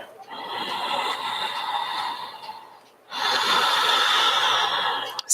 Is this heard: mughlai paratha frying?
no